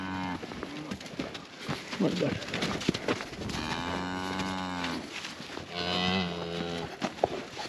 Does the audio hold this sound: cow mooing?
yes